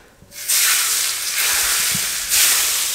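Hot tempering of crisped chillies poured onto chana dal, bursting into a loud hissing sizzle that steams on, then flares again in a second sharp surge, with no talk over it.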